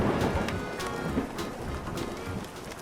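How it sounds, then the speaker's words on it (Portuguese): Heavy rain falls outside a house, making a steady, dense hiss of drops with no talking. "Está chovendo muito lá fora de casa."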